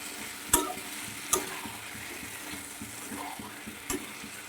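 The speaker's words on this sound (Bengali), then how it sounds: "এবার মাংসটা কষে নেবেন" Meat is fried and stirred with spices in a pan, a low steady sizzle broken by three sharp utensil knocks against the pot, close by and without talk.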